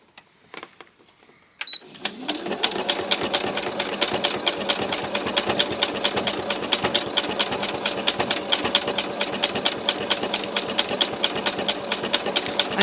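A sewing machine starts after a few soft handling sounds and then runs steadily, a rapid even rattle of stitching as it sews little plant shapes in thick variegated thread on a scrap-fabric landscape, close and fairly loud.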